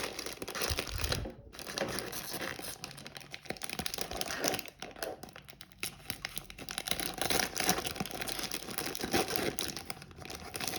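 Thick plastic toy packaging from a Pikmin terrarium collection is handled up close, giving a dense, continuous crinkling and crackling that runs throughout with a few brief pauses and no voices.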